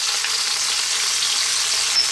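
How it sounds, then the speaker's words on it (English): About a tablespoon of chopped garlic sizzles steadily in a hot pan alongside chicken for a homemade pizza topping, an even hiss with no talk. "I'm going to put in like a tablespoon of chopped garlic now."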